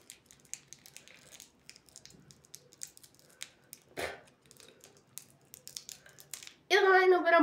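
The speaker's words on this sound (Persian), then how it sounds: "خب ما رفتیم اینو با قیچی بازش کردیم" Scissors cut open a package nearby, giving a series of faint crisp snips and crinkles with one louder crunch midway, ending in a burst of rustling wrapper noise.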